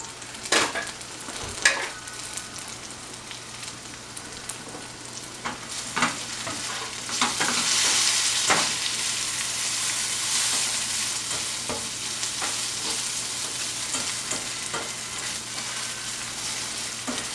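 Onions and mushrooms sizzle and caramelize in a pan for a mushroom and swiss burger, a steady close frying hiss punctuated by scattered sharp clicks and scrapes of stirring, louder midway, with no voices.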